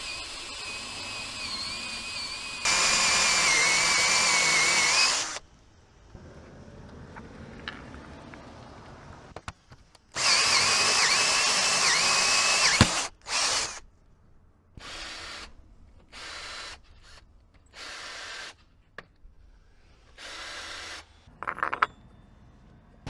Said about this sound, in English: Let's see if we can drill this out.